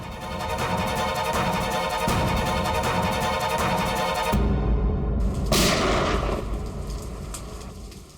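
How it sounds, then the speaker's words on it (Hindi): A loud, booming burst of gunshots rings out during a rainy night scene in a TV crime drama, with heavy rain hissing continuously underneath the repeated sharp reports. "ये कहीं गोली चली है।"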